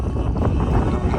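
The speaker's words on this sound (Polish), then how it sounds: "ten wiatr był tak silny" Strong coastal wind near Zadar, Croatia roars and buffets against the microphone in a steady, loud rumble with no other sounds.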